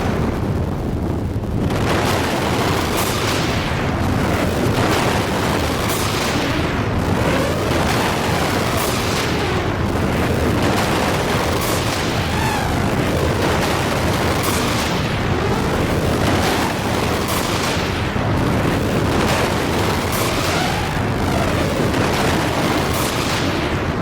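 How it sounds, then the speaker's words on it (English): A defeated boss in the video game Xenogears erupts in a long chain of booming explosions, dozens of heavy blasts and crackling bursts overlapping continuously at high volume. "Amazing explosion sounds."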